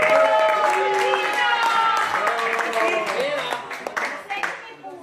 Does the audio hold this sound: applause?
yes